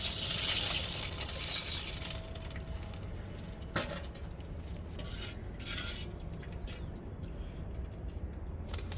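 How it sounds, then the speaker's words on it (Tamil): Water pours into a cooking pot at the start, a brief gushing splash that fades. It is followed by faint clinks of a utensil against metal in a quiet kitchen. "இப்போ தண்ணி சேர்த்துக்கிறோம்."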